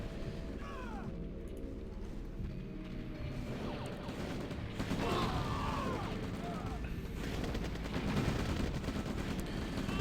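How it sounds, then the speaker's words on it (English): Artillery fire in the real-time strategy game OpenRA, a busy mix of repeated thuds, blasts and mechanical battle noise running continuously, growing slightly louder midway, under a dense layer of game effects. "Artillery is just smacking away."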